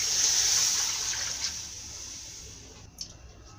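Water poured into a cooking pot holding stockfish, dried meat and chicken for brasas soup, a steady hissing pour that tapers off over a few seconds, with a small clink near the end.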